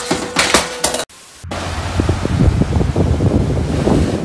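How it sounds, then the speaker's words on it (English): Ocean waves crash and roar in a continuous broadband wash with heavy wind buffeting the microphone, following a brief abrupt cut near the start. "The waves always know how to catch us off guard"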